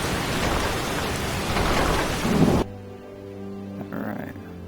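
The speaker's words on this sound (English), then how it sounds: "Very rainy. I want to go inside." In the fantasy game Skyrim Enderal, heavy rain and a thunder rumble roar loudly, then cut off abruptly midway to a quiet indoor hum with a few faint sounds.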